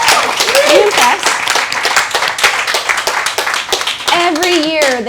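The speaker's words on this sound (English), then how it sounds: "can we just get another round of applause for all of the students?" Enthusiastic audience clapping and applause for students at an annual education festival, loud and continuous, with cheering and excited voices, including children's, mixed in over the whole stretch.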